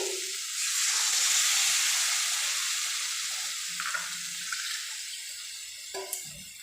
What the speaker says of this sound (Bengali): এবং এক বাটি পরিমাণ জলও দিয়ে দিলাম